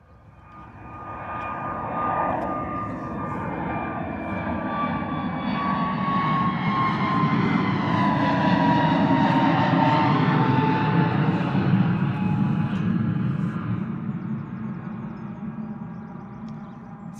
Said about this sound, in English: A320neo off to Bodrum, 251 variant, 6 years old.